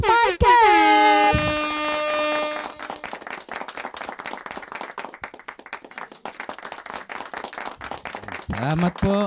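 An audience claps for a few seconds, quick dense clapping after a loud air-horn blast at the start, with a voice shouting over the end.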